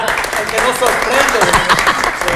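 Applause and clapping from a crowd, mixed with voices talking over it, loud and close.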